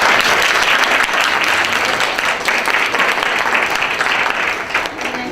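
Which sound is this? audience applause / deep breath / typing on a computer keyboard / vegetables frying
audience applause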